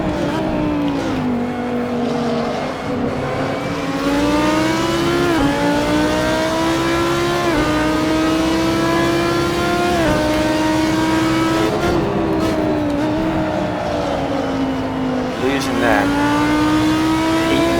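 A BMW Z4 GT3 race car engine in Assetto Corsa at the Red Bull Ring roars loudly and continuously, climbing in pitch and dropping at each upshift, with someone talking over it.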